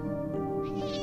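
A cat meows once in a single drawn-out, tonal cry. It is fairly faint and heard alone, with no talk over it.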